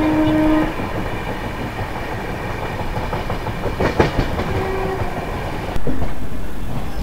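Kamrup Express passenger train running near Kamakhya as a goods train passes alongside, a loud continuous rumble with clattering wheels and brief tonal horn notes, heard from on board with no talking.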